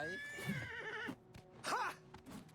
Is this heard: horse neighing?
yes